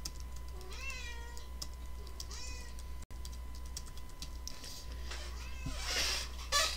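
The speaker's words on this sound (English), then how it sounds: "my cat is back" A cat meows several times nearby in short rising calls, heard over a steady low hum and scattered keyboard clicks.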